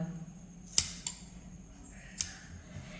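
Scissors snip a V notch into folded blouse fabric, giving two or three sharp, crisp cuts close by against a quiet room.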